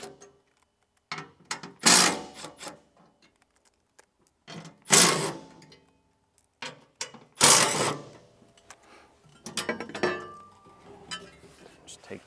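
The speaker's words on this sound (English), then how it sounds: "To remove that, you're going to need a 3/8 socket." A 3/8 socket ratchet loosens the four bolts on a Tilmor 520 tractor, giving close bursts of rapid metallic clicking separated by quiet pauses and small clinks of metal parts.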